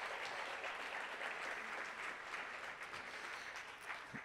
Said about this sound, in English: a round of applause for Gitcoin